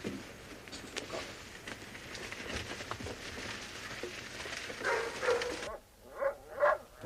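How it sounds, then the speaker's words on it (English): Dogs bark at night, sharp repeated yaps over a murky outdoor background, then a few clearer, louder barks ring out alone near the end. "The dogs. Confounded animals. Something's disturbed them."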